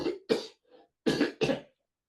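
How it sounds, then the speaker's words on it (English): Four short, harsh coughs from one adult man, spaced in two pairs with a faint breathy catch between them, close and clear in a quiet room with no talking. "Excuse me while I have a cough."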